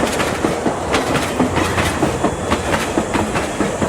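The Konkan Kanya Express rumbles through Rajapur Road station, loud and close, its wheels clattering over the rail joints in a steady clickety-clack.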